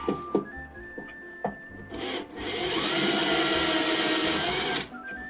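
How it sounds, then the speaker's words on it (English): A power drill drilling out rivets whines steadily for a couple of seconds after a few short knocks and scrapes, close and fairly loud. "God, that's a sharp drill."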